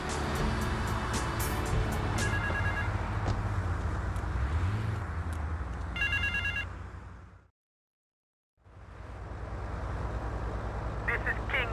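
Payphone ringing in Grand Theft Auto III, repeated electronic ring bursts over city traffic and engine noise, with a brief silent gap before the street ambience returns.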